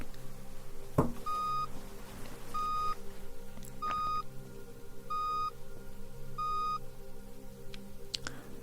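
Five evenly spaced electronic hearing-test beeps over a steady background hum, each short and mid-pitched, with a couple of faint clicks in between.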